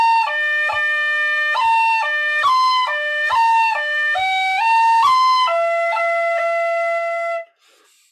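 Solo tin whistle playing the Irish reel The Bucks of Oranmore, clear bright notes with quick cuts ornamenting the melody in a steady driving rhythm, close and loud, ending abruptly.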